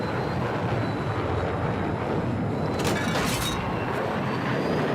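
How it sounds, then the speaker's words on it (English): In Battlefield 6, a jet pilot ejects, a brief burst of rushing noise lasting about half a second, heard over a steady roar of jet engine and wind. "When you jump out the jet, there actually is an ejection sound"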